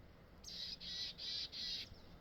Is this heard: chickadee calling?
yes